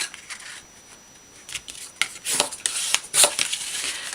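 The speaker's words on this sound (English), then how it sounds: "I am going to line up my edge, do a basic cupboard fold into the center" Patterned paper creased into a cupboard fold for a mini origami book, heard as soft, close crinkling and rubbing with several sharper crisp swipes toward the end, no voices.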